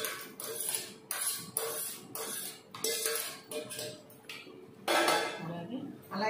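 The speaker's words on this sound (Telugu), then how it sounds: "ఈ పెరుగులో కలుపు." Cucumber pieces are stirred into curd in a bowl for a Kerala-style curd dish. A spoon scrapes and clinks against the bowl in repeated close, uneven bursts with brief pauses between them.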